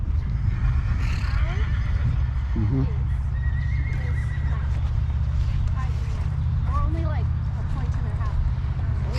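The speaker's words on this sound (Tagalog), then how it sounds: "Agresibo yung kabayo niya oh." An aggressive horse whinnies during a staged horse fight, with several neighs and squeals over a constant rumble of crowd noise and nearby commentary.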